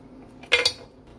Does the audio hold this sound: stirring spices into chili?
yes